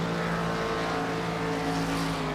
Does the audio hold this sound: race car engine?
yes